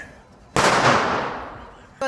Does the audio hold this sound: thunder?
no